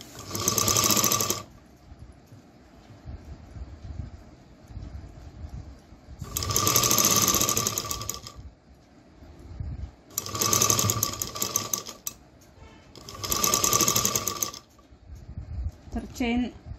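A sewing machine stitches fabric while a zipper is being attached, running in four short whirring bursts of one to two seconds each, separated by pauses in which someone talks.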